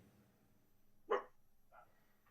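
A dog indoors gives one sharp, loud bark followed shortly by a fainter, shorter yelp, with quiet room tone between them and no talking.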